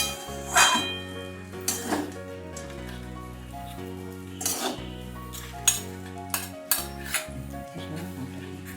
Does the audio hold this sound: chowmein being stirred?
yes